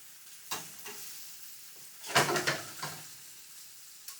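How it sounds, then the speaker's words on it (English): Seabass sizzles in a hot pan, with quiet frying crackle broken by a few sharp scrapes and clatters as the fish is turned, the loudest burst midway; no one speaks. "So that part of it is frying."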